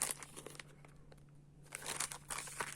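A plastic packet holding pink gloves crinkles and rustles in bursts, close by, with a quieter pause in the middle before the crackling resumes.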